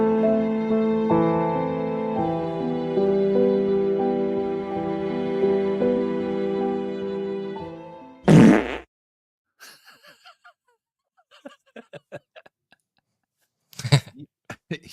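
A crude fart noise bursts out loud and alone, followed by scattered short sounds and then a second loud blurt near the end, after a stretch of tonal music.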